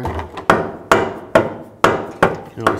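Sharp hammer blows on the front CV axle of a 2003–2010 BMW X3, struck to line it up: six distinct metallic-wooden whacks at an uneven pace, each with a short ringing decay, close and clear with no talk.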